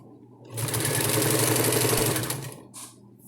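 A sewing machine runs in one steady, close burst of about two seconds, stitching a double-sided diaper cover, then stops into quiet.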